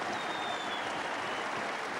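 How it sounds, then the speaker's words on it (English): A cricket crowd at a 1992 match applauds a century with steady, dense clapping that fills the whole stretch, loud and continuous with no pauses. "And the crowd here delirious with excitement."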